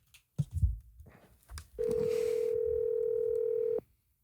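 A few soft handling noises, then a single steady telephone tone sounds for about two seconds and stops.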